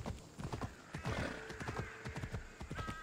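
In Assassin's Creed Odyssey, rhythmic hooves clip-clop at a steady trot, close by, with a horse neighing partway through, set against a faint ambient backdrop.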